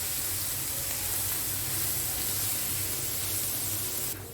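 Curry leaves, green chili and ginger frying in hot oil in a Kerala kitchen, a steady, even sizzling hiss that stays at a constant level throughout, with no one talking.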